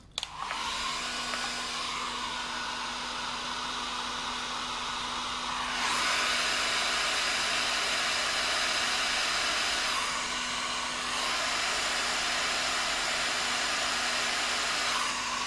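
A hair dryer starts up and blows with a steady, loud whooshing whine, its airflow pitch shifting a few times as it runs alone, with no one speaking.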